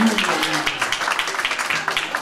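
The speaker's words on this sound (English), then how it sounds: "Let's give a clap for Jesus." A church congregation claps together for a couple of seconds, a dense, steady patter of many hands that sounds moderately close and even, with a hint of voices underneath.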